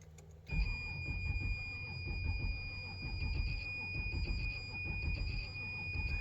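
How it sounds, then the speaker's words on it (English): An Audi Q7 engine cranks continuously on a low battery with the injectors unplugged, after a brief pause, a steady churning drone with a thin high whine running over it. "Alright, we'll crank the car."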